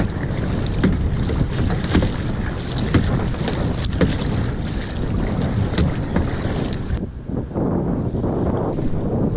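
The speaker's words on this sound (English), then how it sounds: "It's so much easier being out on the kayak in wind like this than in the canoe." Steady wind gusts and buffeting microphone noise out on open water from a kayak, with faint water sloshing and paddle knocks, continuous and fairly loud, easing slightly near the end.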